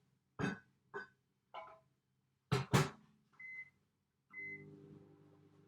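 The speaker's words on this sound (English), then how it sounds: "I'm going to microwave it because we want it to be melted." Microwave oven melting butter in a short 10-second run: a few sharp clunks and taps at the door and buttons, two brief beeps, then the low steady hum of the oven running, close and quiet.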